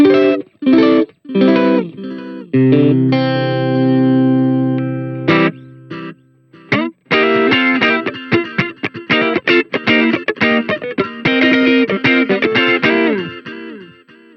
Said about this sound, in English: I'll add the reverb, or sorry,